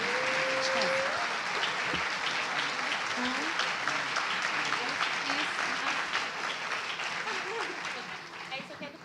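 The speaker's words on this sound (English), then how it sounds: "Let's join in giving them another round of applause." Audience applause for presidents, including South Africa's Cyril Ramaphosa, at a Global Citizen NOW event in Rio: a sustained, dense round of clapping from a large crowd, fading toward the end, with a brief voice over it at first.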